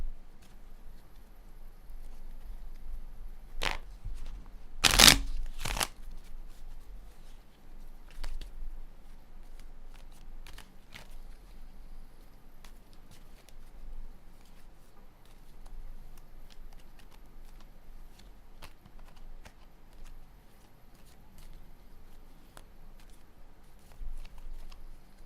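Playing cards shuffled close by, heard as a few brief, sharp riffling bursts near the start against an otherwise quiet, low room hum.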